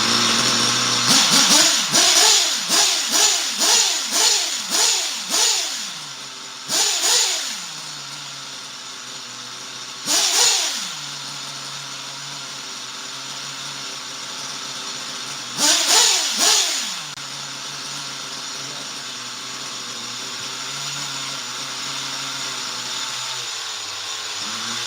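A small glow plug engine in an RC car revs in a quick series of rising, buzzing bursts, then fires in several separate loud whines with steady idling between, close to the microphone.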